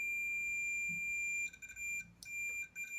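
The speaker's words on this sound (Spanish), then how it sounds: "suena la chicharra cuando unimos las puntas" A multimeter's continuity buzzer sounds as its probes touch, a steady high-pitched electronic tone that cuts out briefly a few times near the end.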